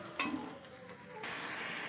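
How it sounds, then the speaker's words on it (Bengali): Ginger, garlic and onion paste frying in hot oil for an omelette curry, a steady close sizzle that jumps louder partway through, with a brief stirring scrape near the start. "আদা রসুন পেঁয়াজটা ভালো করে ভাজা ভাজা হয়ে গেলে"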